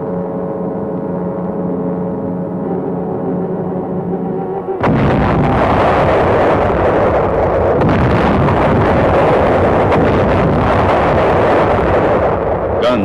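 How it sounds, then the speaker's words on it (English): Naval guns of a 262-ship United Nations armada bombarding Wolmi island at Inchon, Korea, as a sudden roaring barrage after a steady engine drone, loud, continuous rumbling blasts that fill the rest of the recording. "Guns of the 262-ship United Nations Armada began their point-blank preliminary bombardment."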